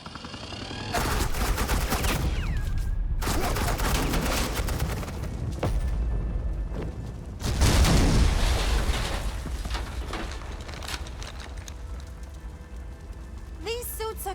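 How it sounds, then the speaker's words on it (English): Rapid automatic gunfire from Batman: The Enemy Within rattles in dense, sustained bursts with a heavy blast near the middle, close and loud, with pauses between volleys and voices briefly heard. "Suppressing fire."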